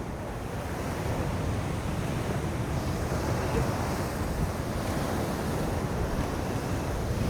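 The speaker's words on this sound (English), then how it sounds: "those waves!" Ocean waves roll and wash against the rocky shore at Giant's Causeway, Northern Ireland, a steady roar mixed with gusting wind buffeting the microphone, with no talk.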